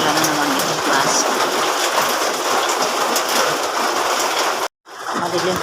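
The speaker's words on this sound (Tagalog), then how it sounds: "naririnig ko ba maulan pa din" Steady, dense rain pours down in Baguio in the dark early morning, a continuous close hiss that fills the whole stretch and breaks off once briefly near the end.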